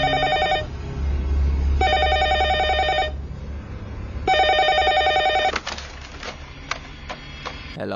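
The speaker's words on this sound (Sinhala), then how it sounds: "ඔයාගේ ෆෝන් එක උස්සන්නේ නැද්ද" A mobile phone rings nearby in a film scene, sounding in repeated electronic trill bursts separated by short gaps, followed by a few clicks and taps.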